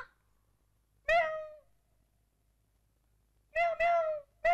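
A cat meows close by in a quiet room: one clear meow, then a pause, then a quick run of two or three more.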